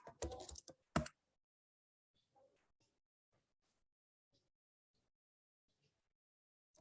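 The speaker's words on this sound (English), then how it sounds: "Let's say by typing the URL." Someone typing a URL on a computer keyboard: a loud burst of rapid clicking keystrokes at the start, then sparse, faint individual key taps scattered over several seconds of near silence.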